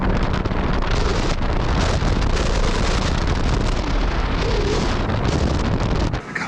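A Sea Doo FishPro 170 jet ski runs at full throttle on open water, a loud, continuous roar of engine, rushing water and heavy wind buffeting right at the microphone, easing off briefly at the very end.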